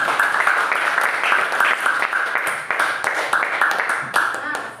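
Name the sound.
classroom applause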